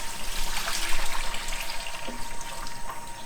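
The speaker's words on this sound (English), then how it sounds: "This one is just freshly filled, so I'm going to remove all the water from it." Water poured out of the water tank of a Siemens coffee machine, a close, steady splashing trickle that keeps flowing for several seconds without letting up.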